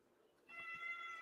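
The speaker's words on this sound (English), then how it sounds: "Nope, that's the cat." A cat gives a single drawn-out meow indoors, faint and fairly close, rising out of near silence.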